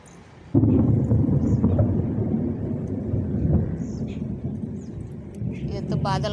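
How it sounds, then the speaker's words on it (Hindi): Thunder rumbles through a village on a stormy day, a sudden loud onset followed by a long, steady low roll that fades slightly near the end, with faint birdlike chirps above. "ये तो बादल गरजने की आवाज़ आ रही है"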